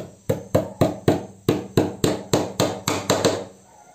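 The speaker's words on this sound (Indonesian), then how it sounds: "Kemudian juga kita tarik ya supaya kencang ya. Kita paku lagi ya." Nails are hammered into a ceiling panel while a tweeter speaker is installed: about a dozen sharp, evenly spaced hammer strikes, loud and close, ringing briefly after each blow, with no speech.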